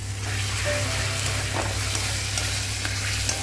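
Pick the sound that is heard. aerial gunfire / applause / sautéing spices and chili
sautéing spices and chili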